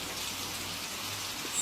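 Rain falling outside on a rainy day, a steady, soft hiss of drops with no voices.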